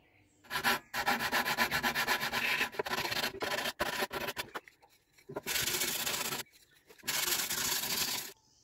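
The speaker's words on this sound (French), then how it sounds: "je vais les poncer un petit peu aussi d'abord" Someone hand-sands small wooden pieces ahead of spray painting them black, producing bursts of harsh scratchy rubbing in several runs of strokes separated by short pauses, close and clear.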